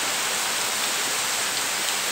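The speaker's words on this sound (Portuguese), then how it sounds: "Chuva chegou, chegou com vontade" Heavy afternoon rain pours down in northeastern Brazil's sertão in a dense, steady roar of hiss with no letup, loud and close, with no voices.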